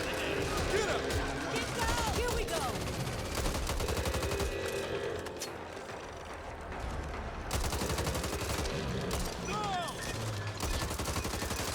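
Bursts of rapid gunfire shooting zombies in Back 4 Blood crackle through most of the stretch, dipping briefly midway before resuming, mixed with game effects and a voice talking.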